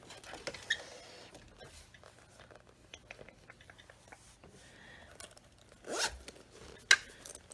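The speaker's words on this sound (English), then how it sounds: "Really basic zipper pouch." Close, quiet handling of a basic vinyl zipper pouch: the zipper runs in several short rasping pulls, with a louder zip near the end among light rustles and taps.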